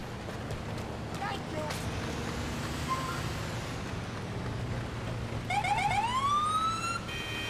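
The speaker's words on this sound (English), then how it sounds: "Everyone's ignoring my sirens." A police car siren in the LCPDFR police game on a snowy street, with a wailing tone rising in the last two seconds over a steady engine and traffic rumble.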